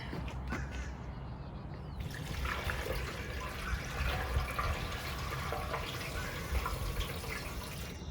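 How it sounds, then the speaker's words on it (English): Fluid trickles and gurgles steadily through a funnel into a 1982 Honda CB650 motorcycle, a close continuous pour with a brief clunk at the start and no talk. "I'm gonna get a funnel. Let's pour this stuff in here."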